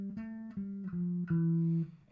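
A bowed violin plays a short rising scale of five clear, sustained notes starting on D with F natural, evenly spaced and played alone.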